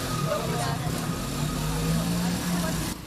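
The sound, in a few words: motorcycle crossing a pothole-damaged road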